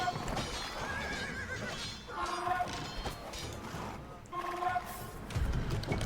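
Age of Empires II: a horse whinnies twice amid clip-clopping hooves and battle clatter, with in-game voices and a dense game soundscape running throughout.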